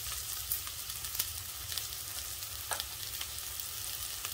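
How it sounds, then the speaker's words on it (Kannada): Raw mango rice seasoning with turmeric frying in a pan, a soft steady sizzle with occasional small crackles and stirring taps, quiet and without talk. "ಸ್ವಲ್ಪ ಚೆನ್ನಾಗಿ ಅಂದ್ರೆ ಫ್ರೈ ಮಾಡ್ಕೊಬೇಕು"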